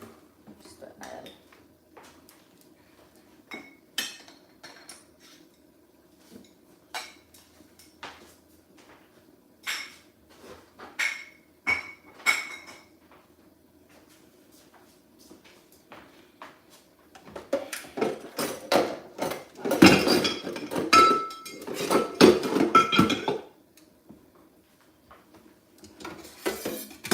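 Dishes and pots clatter and clink in a home kitchen as they are rinsed, with scattered knocks at first and then a dense, louder run of banging cookware and running water, while someone talks quietly at times.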